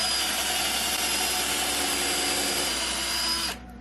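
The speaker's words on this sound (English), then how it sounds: "go back through the top board with a little bit bigger drill bit." A power drill with a slightly larger bit bores through the top board of old farmhouse door wood, a loud steady high whine lasting over three seconds before it stops abruptly.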